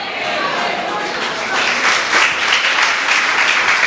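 A church congregation breaks into applause, many hands clapping in a broad, roomy wash that swells louder partway through, with some voices mixed in.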